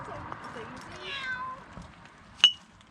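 A cat gives a drawn-out meow, along with a few softer mews, out on a road in Bosnia, while a person calls to it gently. A sharp click follows near the end.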